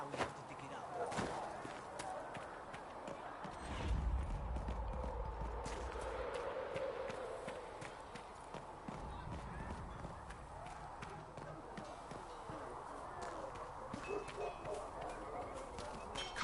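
Riding mounts in the video game Dragon Age Inquisition produce steady, rhythmic clip-clopping hooves at a brisk pace, continuous under people talking.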